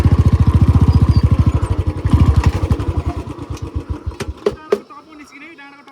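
A motorcycle engine, a Bullet ridden on a dirt climb, thuds in a fast rhythm and labours, then sputters and fades. Loud voices talk over it.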